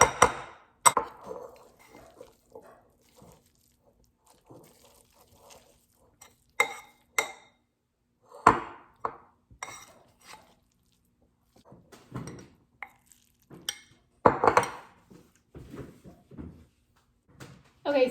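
Canned tuna is mixed in a bowl, sharp scattered clicks and scrapes of a utensil against the bowl arriving in irregular bursts between quiet gaps, with faint speech in places.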